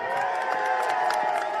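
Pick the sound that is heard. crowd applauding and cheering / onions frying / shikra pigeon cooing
crowd applauding and cheering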